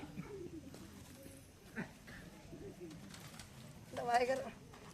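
A pigeon coos once, a soft throaty warble near the end, under ongoing talk and household background noise.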